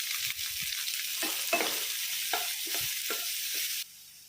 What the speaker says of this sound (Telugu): 1 టీ స్పూన్ ఫ్రెష్ హోమ్మేడ్ అల్లం వెల్లుల్లి పేస్ట్ లైట్గా సాటే చేసుకుందాము. నెక్స్ట్ సన్నగా తరుక్కున్న ఉల్లిపాయలు